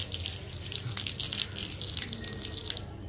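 Tap water runs steadily into a sink as a toy is washed, a close, continuous splashing hiss with small fluctuations and no voices.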